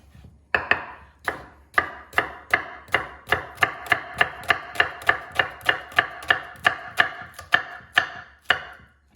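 A knife fine-chops a hard, late-season onion on a cutting board in about twenty crisp, evenly spaced knocks, close and clear, with no talking.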